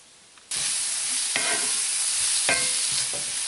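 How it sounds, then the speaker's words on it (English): Minced garlic, about two tablespoons, hits a hot pan with a sudden loud sizzle that holds steady, broken by a few scraping stirs; no one speaks. "I'm going to put in 2 tablespoons of minced garlic."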